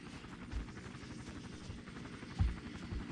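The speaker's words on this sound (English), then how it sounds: "And there's the helicopter again," Helicopter in the Vietnam War video game Battlefield Vietnam, a low steady rotor rumble throughout with a couple of brief louder swells, sounding moderately distant.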